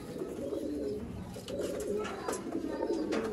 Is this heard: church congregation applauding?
no